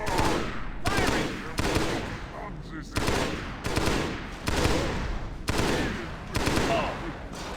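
Rapid bursts of gunfire in Halo CE SPV3, aboard the Pillar of Autumn, come in about seven loud, evenly spaced volleys with short gaps between them.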